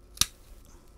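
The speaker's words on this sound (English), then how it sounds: "all I'm going to do is snip it right about here" A single sharp scissor snip cuts through a plant cutting, close and crisp, followed by quiet near-silence.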